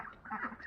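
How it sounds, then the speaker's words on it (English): Ducks quacking in a barn, a few close, nasal calls overlapping in a brief burst. "So we just got these ducks right here."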